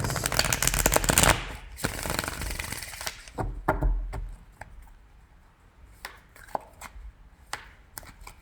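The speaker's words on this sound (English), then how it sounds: "I'm going to pull 3 cards for you." Tarot cards riffle in a dense, loud shuffle for a few seconds, then quieter single snaps and taps follow as cards are drawn and laid down one by one, with no voices.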